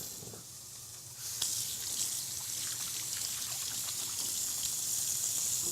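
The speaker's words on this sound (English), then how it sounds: "Just going to wash my hands here." Hands washed under a running kitchen tap after handling raw meat, a steady watery hiss and patter that swells louder after the first second, with faint kitchen clatter and no talk.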